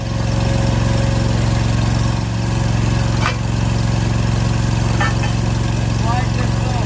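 A Wolfe Ridge 17 VS-C log splitter's engine runs at a steady, loud mid-pitched drone with a constant throb, close by, with brief small clatters over it.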